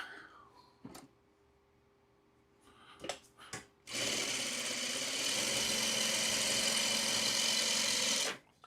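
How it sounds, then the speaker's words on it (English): A sewing machine stitches fabric for a craft project: a few clicks and handling knocks first, then a loud steady whirring run of about four and a half seconds that stops abruptly. "I will sew this one"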